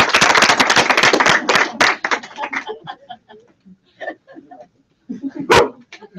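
A dog barks in short, sharp bursts near the microphone during a room gathering, first buried under a wave of clapping and then standing out alone in quieter moments.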